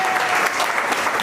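Congregation at a church service breaking into steady, full applause, dense clapping sustained throughout without pause.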